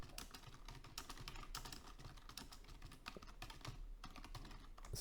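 Someone types a message on a computer keyboard in a steady, continuous stream of quick key clicks, fairly faint and close, with no talking.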